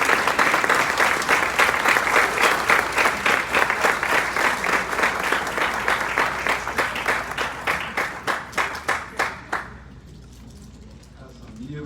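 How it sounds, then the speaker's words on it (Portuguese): An audience at a question-and-answer talk in Austin, Texas breaks into rhythmic applause, claps falling into a near-unison beat that slows and thins before fading into quiet room tone near the end. "vamos dar aplausos a ele para trazê-lo de volta ao pódio"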